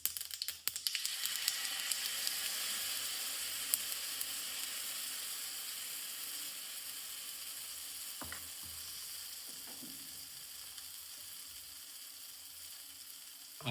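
Sesame seeds and oil sizzling on a hot griddle, a steady close bright hiss throughout with a couple of faint clicks and scrapes, after a brief crackling burst at the start.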